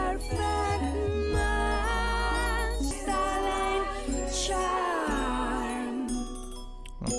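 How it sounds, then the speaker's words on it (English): High-pitched, ear-piercing chimes in a track from the Biophilia album ring over dense, layered music with sustained tones and a low bass, loud and continuous throughout. "Such a high-pitched chime of this track."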